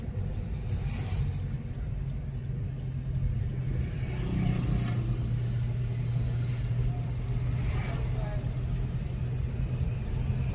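Driving-school car engine pulling away on half clutch, a steady low rumble with slight revving that holds throughout, close up inside the cabin, with an instructor talking over it.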